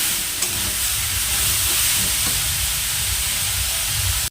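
Grated coconut and jaggery roast in a pan as the jaggery melts, giving a loud, steady close sizzle with faint scraping of stirring throughout.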